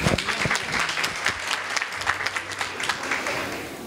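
A crowd at a meeting with textile workers breaks into applause, a lively patter of many hands with distinct individual claps standing out, fairly close and steady for about four seconds.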